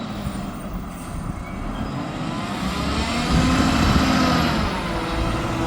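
A Mack McNeilus front loader garbage truck with air brakes, ex-Marangi now run by IWS, rumbles past nearby, its heavy diesel drone growing louder around the midpoint and staying steady to the end.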